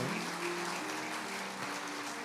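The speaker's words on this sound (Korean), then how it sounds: "우리 나오실 때 우리 사랑하는 또 소원을 위해서 뜨겁게 박수로 좀 맞아 주시면 감사하겠습니다" A church congregation at Sunday worship applauds warmly to welcome a newborn baby girl, a continuous, fairly soft wash of many hands clapping with faint background voices beneath it.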